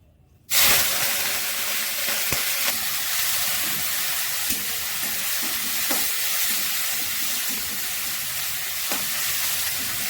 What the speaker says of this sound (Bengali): প্রথমেই আমি চিংড়ি মাছগুলো ভেজে নিচ্ছি